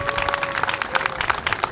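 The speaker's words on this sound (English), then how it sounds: "yes, big round of applause for Arpan." A crowd at a political campaign launch claps steadily, a dense, even patter of many hands close by, with a faint steady tone running underneath.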